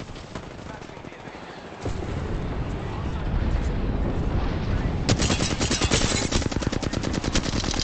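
Video game shooter gunfire during a tournament match, dense and loud rapid automatic bursts building after a quieter start, with a fast rattling volley near the end and a voice faintly under the shooting.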